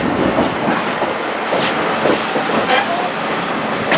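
Steady rumble and rattle of the 1880 Train's railcars rolling along the rails at Hill City, South Dakota, a continuous broadband roar with faint rhythmic clatter throughout, up close and loud.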